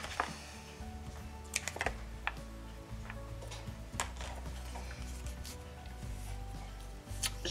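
Scissors cut a paper napkin for a handmade card, producing small crisp snips and clicks scattered irregularly over a faint background.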